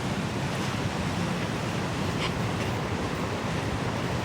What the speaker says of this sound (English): see a small waterfall behind me